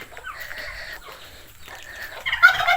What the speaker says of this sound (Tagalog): Hindi naman manok yun, pabo yun eh.